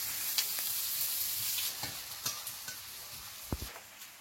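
Onion sizzles in the oil left over from frying koi fish, a steady soft hiss broken by faint scattered pops and a couple of quick scraping stirs.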